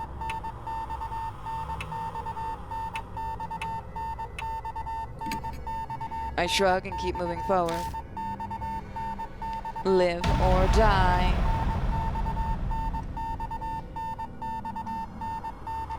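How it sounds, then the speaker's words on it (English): Morse-code beeping in the horror game Spirit Hunter: Death Mark, a steady tone pulsing in repeating sequences throughout beneath a narrator's voice, with an occasional louder, rumbling eerie effect swelling in the middle. "That's Morse code."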